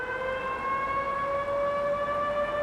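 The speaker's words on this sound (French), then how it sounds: "Des sirènes avertissent la population à l'approche des forces de défense israéliennes." Civil defense warning sirens in Jenin, West Bank, announcing approaching Israeli forces: a steady, sustained multi-tone wail with strong harmonics, carrying clearly and uninterrupted throughout, with no voices.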